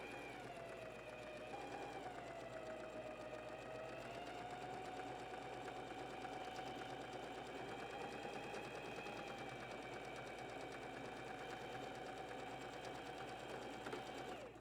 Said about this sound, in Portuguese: costuro um pouquinho para frente, para trás e vou costurar até fechar unindo aqui o meu tecido